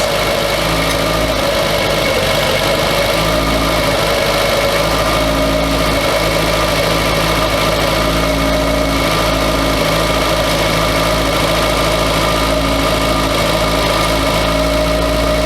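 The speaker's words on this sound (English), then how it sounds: "A couple of concerning noises coming from the engine now" A barn-find Volkswagen Scirocco engine idles steadily, a constant low rumble with a faint mechanical hum, close by and unbroken for the whole stretch.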